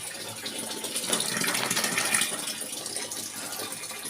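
Water gushes strongly into an LG automatic washing machine under repair for weak filling, a steady close rushing flow that swells slightly in the middle and runs on alone with no talk.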